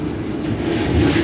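An Ahmedabad metro train passing close by, a steady low rumble with a broad rushing hiss that builds slightly toward the end, with no voices.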